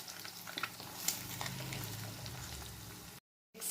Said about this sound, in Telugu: ఆయిల్ హీట్ అయిన తర్వాత 3 ఎగ్స్ బ్రేక్ చేసుకొని వేసుకోండి